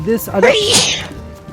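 A single sharp sneeze bursts out close by, wedged between bits of conversation.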